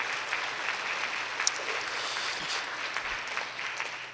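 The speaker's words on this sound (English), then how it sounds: "please clap it up one time for the association and these girls here" An audience at a city awards ceremony applauding a girls flag football team and their association, a steady wash of clapping at moderate level that fades slightly near the end, no speech.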